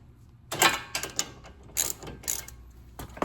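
Ratchet wrench clicking in short bursts while loosening brake caliper bolts on a 2019 Toyota Corolla hatchback, several close, crisp ratcheting runs separated by brief pauses.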